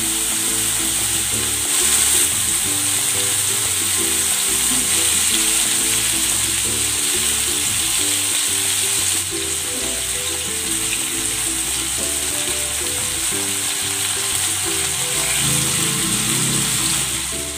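Pork loin frying in butter in a pan, a loud, steady, close sizzle with dense crackling that runs unbroken throughout, alone without voices.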